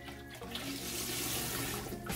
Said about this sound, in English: I'm gonna add to my water, I'm gonna add veggie broth.